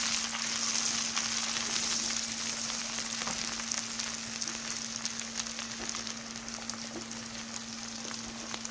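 Tomatoes fry in a pan with a steady, dense sizzle that holds evenly throughout at moderate loudness, with no talking.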